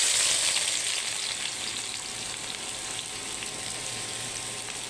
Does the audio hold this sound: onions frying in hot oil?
yes